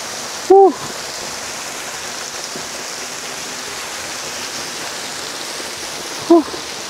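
A waterfall in Bailen, Cavite pours as a constant broad rushing hiss of falling water, steady and loud throughout, with two short voiced sounds standing out briefly near the start and end.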